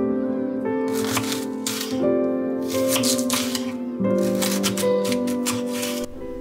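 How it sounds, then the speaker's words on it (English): Knife slicing through a trimmed, halved fennel bulb: crisp cutting bursts come in short runs, close by, over steady background music. "You'll also need to remove the ends from the bulb, halve, and cut into slices."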